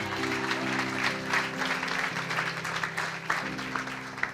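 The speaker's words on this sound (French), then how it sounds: "Acclamons le Seigneur pour les femmes." A church audience at a prayer seminar applauds and acclaims the Lord with sustained, dense clapping and cheering throughout, over a lingering organ-like musical tone.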